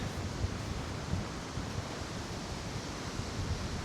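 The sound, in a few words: strong wind at top of waterfall in Wales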